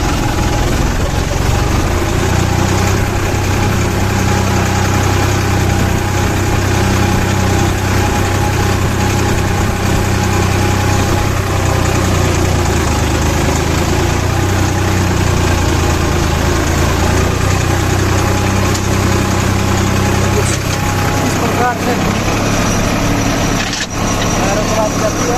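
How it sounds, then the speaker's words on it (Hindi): A steady Farmtrac 45 tractor engine drone runs throughout while sowing millet, loud and close, with a faint tonal hum and voices underneath. "और ट्रैक्टर चला दिया हमने"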